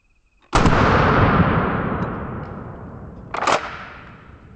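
A shotgun firing buckshot at a rubber dummy gives one loud, sharp blast with a long rolling outdoor echo, followed near the end by a quieter clack of the action being worked.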